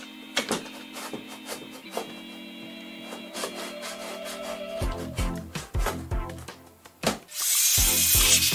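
An electric power tool whirs in short bursts and longer runs while screws are backed out of the power supply of a 2006 Mac Pro, with clicks and handling clatter between, ending in a loud broadband whoosh.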